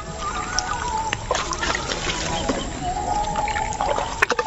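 Water trickles and drips out of a small fishing net along a Sundarbans river, a steady wet splashing with occasional sharper drops, fairly close, with a voice speaking faintly underneath.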